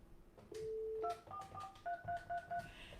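Telephone keypad dialing tones on a hotline call, a run of distinct DTMF beeps in an uneven rhythm, clear and fairly near, with no talk over them.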